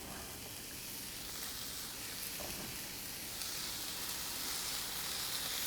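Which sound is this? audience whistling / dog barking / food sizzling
food sizzling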